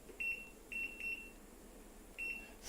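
Kitchen timer being set while butter chicken cooks, giving four short, clear electronic beeps in an uneven pattern over low room noise, with no talking.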